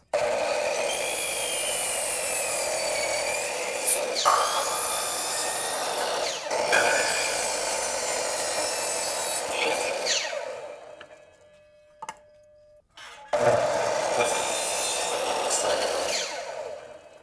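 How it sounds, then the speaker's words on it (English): A hand saw cuts through a wooden board for a clay figure base in rhythmic rasping strokes, close and continuous, pausing briefly before the sawing resumes near the end. "Now let's go ahead and cut our secondary board that'll go on top."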